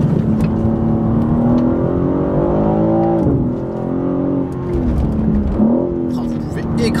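A 2023 BMW M3 CS G80 engine pulls hard at about 4000 rpm out of a corner, its loud, steady rising drone holding on throughout with brief dips as revs shift, while someone talks over it.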